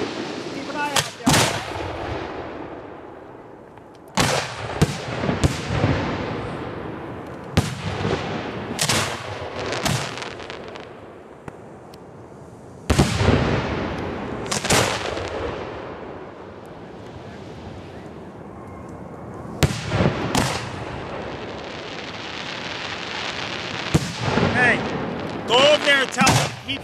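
Professional fireworks launched outdoors at a display, with a series of loud booming shots at irregular intervals, each followed by a rumbling, crackling decay and wind noise between bursts.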